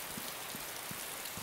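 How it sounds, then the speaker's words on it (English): Steady rain hisses evenly across the whole stretch in the DayZ video game, a dense unbroken wash with faint soft thumps underneath and no voices. "It's getting awfully dark and awfully rainy"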